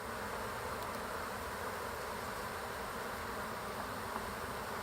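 Dense, steady buzzing of honeybees swarming around an open painted hive, a continuous near drone without pauses or voices.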